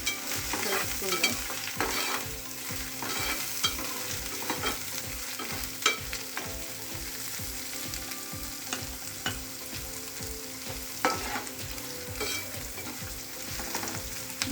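Turmeric and spices stirred with onions frying in a pan for a Telangana yellow cucumber curry make a constant close sizzle. Repeated scraping strokes of the spoon run throughout, with no talking.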